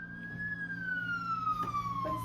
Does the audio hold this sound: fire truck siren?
yes